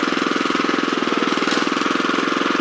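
Honda FR600 tiller engine running steadily at close range, a loud, even, rapid putter with a constant mid-pitched drone and no speech.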